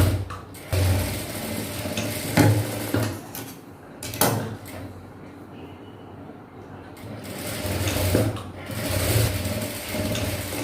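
An electric sewing machine runs in steady bursts while stitching a blouse seam, a rapid mechanical whir that pauses briefly between runs, close and fairly loud.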